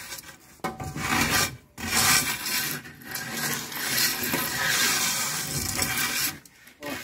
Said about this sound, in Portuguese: Agora aqui a gente só tampa os buracos, passa a régua.